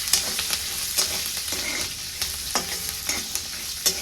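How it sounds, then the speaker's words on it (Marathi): Raw peanuts fry in hot oil in a pan for nariyal poha, a steady close sizzle broken by repeated scraping stirs and light clacks, with no talking. "शेंगा तळ तेलामध्ये चांगल्या फ्राय करून घ्यायचे"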